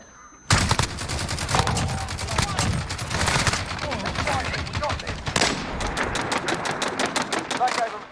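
SA-87 rifle in a Modern Warfare shooter firing long rapid automatic bursts, loud and close, with a pause and then another fast string of shots while a player talks over parts of it.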